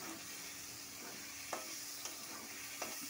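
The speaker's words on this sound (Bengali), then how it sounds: "একটুখানি কষাচ্ছি" A jackfruit and prawn curry sizzles in a pan during kashano, a soft steady frying hiss broken by a few spoon stirs, quiet and close, with no voices.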